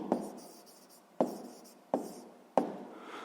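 A pen writes out a sixth-grade math solution on paper, giving four sharp taps that each trail into a soft scratching stroke, close and quiet with no voice.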